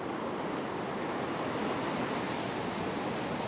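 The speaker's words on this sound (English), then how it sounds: "Quite a few big waves coming in at the moment, and it's another big set out the back." Big ocean waves break on an Australian beach with a continuous loud roaring wash of surf, steady and broadband with no pauses, heard close without voices.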